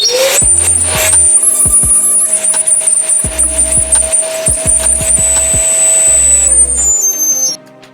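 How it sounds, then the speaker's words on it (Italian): A vacuum cleaner sucks drill shavings out of a gas cooker burner nozzle, with a steady close roar and high whine, broken by short knocks and clunks, until it cuts off near the end. "Uso un altro poco l'aspirapolvere."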